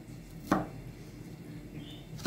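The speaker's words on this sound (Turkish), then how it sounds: "Biz de şöyle sebzelerimizi mümkün olduğu kadar küçük küçük doğrayalım." Two separate knife chops of vegetables on a cutting board, well spaced, against a soft background hum.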